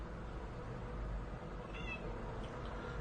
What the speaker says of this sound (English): she starts meowing really loudly